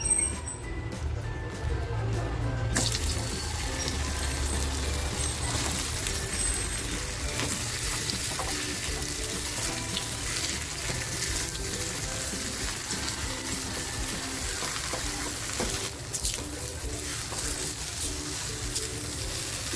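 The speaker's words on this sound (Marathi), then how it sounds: "ही बेसन लावून ठेवलेली जी भेंडी आहेत ना ती मी ह्या तेलामध्ये फ्राय करून घेते आहे" Besan-coated okra fries in hot oil in a pan for a dhaba-style bhindi masala, giving a steady, dense sizzle that runs the whole time with no talk over it.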